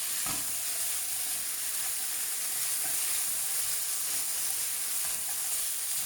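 Kerala-style duck roast, thickened with coconut milk, sizzles and sautés in a pan over high heat: a steady, dense, close frying hiss with faint stirring scrapes and no voices.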